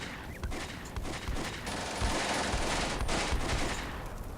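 Sustained light machine gun bursts in the WWII strategy game Combat Mission: Beyond Overlord, dense rapid rattling shots layered with scattered distant gunfire, loud and continuous without speech.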